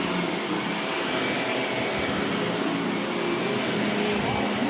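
A Shark vacuum cleaner runs steadily at close range, a continuous broadband whoosh and motor hum with no letup, while faint talk sits in the background.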